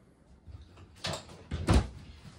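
A large cabinet door above the stainless steel sink in a 2022 Palomino Puma Destination 39PQB travel trailer is opened or closed, giving a few soft knocks and clunks that rise to one firmer thump near the end, with no talk.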